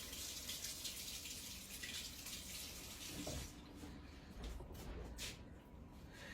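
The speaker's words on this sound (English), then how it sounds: "Let me rinse my hand." Tap water runs steadily into a sink while a hand is rinsed under it, a close hissing splash that thins out after a few seconds into intermittent dribbles.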